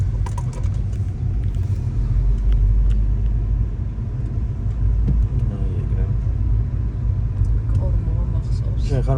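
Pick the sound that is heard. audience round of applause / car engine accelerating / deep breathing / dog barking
car engine accelerating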